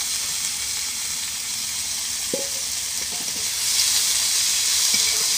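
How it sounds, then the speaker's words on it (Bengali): Minced chicken fries in a pan with turmeric, cumin and chilli over a clay stove, making a loud, steady sizzle with a few light clinks of a stirring utensil. "পিচ করা মাংসগুলো দিয়ে দিচ্ছে"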